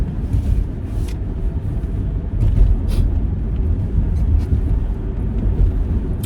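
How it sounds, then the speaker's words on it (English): Salt trucks driving along a winter road, a low continuous engine and tire rumble that swells slightly midway, with a few faint higher clicks and scrapes on top. "oh, the salt trucks are out"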